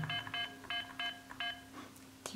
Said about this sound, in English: Keypad tones,